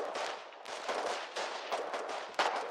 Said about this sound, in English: Grenades are being thrown back and forth from both sides.